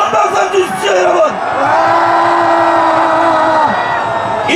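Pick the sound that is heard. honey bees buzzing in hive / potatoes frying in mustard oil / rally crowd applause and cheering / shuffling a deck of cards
rally crowd applause and cheering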